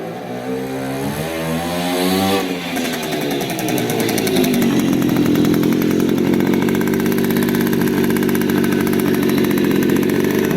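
A restored 1968 Riga-4 moped engine runs with a loud, buzzing two-stroke drone, revving and shifting pitch early before settling into a steady, close, continuous roar.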